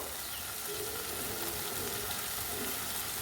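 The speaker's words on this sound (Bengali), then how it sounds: "এইবার এটা পুরোটা ভালো করে কষাবো" Ground spice paste and onions fry in a kadai for a bottle-gourd kofta curry, giving a steady, close hiss of sizzling that runs the whole time with no talk.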